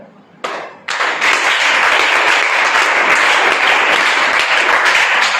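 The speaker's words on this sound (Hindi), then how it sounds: "तो मेरे साथ एक बार ताली आप बजाएं।" A group of NSS students claps together in unison, starting with a couple of sharp isolated claps and then breaking into loud, dense, continuous applause-like clapping close by, with no talking.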